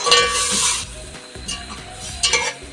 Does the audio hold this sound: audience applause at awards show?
no